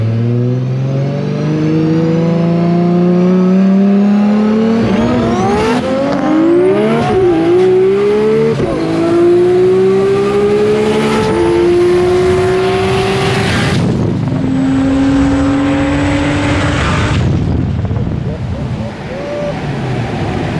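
Nissan R32 GTR with a 2.6-litre engine racing a GTT, loud engines revving hard and rising through gear changes, with a sharp squeal and a car passing close, all at full volume with no talk.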